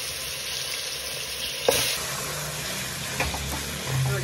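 Marinated dum biryani ingredients hit hot oil in a cooking pot, producing a steady close sizzle with a few sharp clatters of utensil against the pot.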